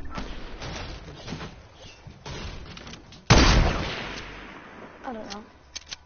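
A single sharp hunting rifle gunshot in a video game, loud and sudden with a decaying tail, amid scattered quieter game noises and faint background talk.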